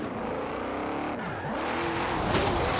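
A stock 2002 BMW M3-GTR drifting in Forza Horizon 4, its engine droning steadily with shifting pitch and faint tire squeal rising toward the end, continuous and close.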